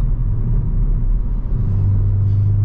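Hyundai i20N hot hatch under full throttle, a loud, steady low engine rumble building with a rising drone toward the end, close and continuous with no talk.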